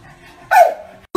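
A dog gives a single loud, close bark, short and abrupt after a quiet breathy lead-in. Another sharp sound starts right at the end.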